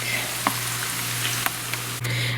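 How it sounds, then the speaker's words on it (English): Oil sizzles and crackles steadily as rolled tacos (flautas) fry, with a few soft clicks and a low constant hum beneath, close and moderately loud. "So once these finish frying up, I'll go ahead and show you guys what the final product looks like."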